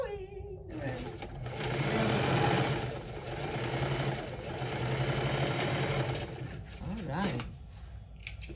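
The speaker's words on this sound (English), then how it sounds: "Then I'm gonna come across and start sewing the rest." A sewing machine stitching a quilted crossbody handbag runs in a steady mechanical whir for several seconds, pauses briefly, then gives a short burst near the end.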